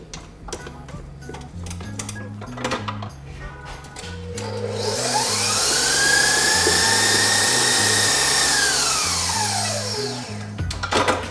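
A stand mixer whips Swiss meringue buttercream, its motor whirring up into a loud, steady high whine for several seconds, then winding back down amid clinking and background rumble.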